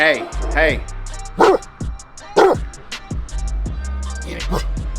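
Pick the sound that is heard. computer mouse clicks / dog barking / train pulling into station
dog barking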